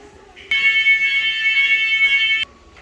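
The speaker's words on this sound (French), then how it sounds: "il y aura l'alarme incendie." A loud electronic fire alarm in a store sounds one steady shrill tone for about two seconds against quiet indoor background noise, then cuts off abruptly.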